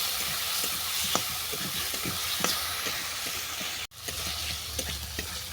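Spices with salt and turmeric are stir-fried in oil in a pan for a cabbage curry, giving a steady close sizzle with frequent scraping strokes of a spatula and a brief cut partway through.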